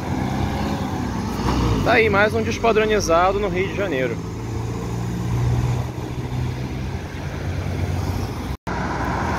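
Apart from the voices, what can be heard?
Neobus Mega Plus city bus passing, Três Amigos line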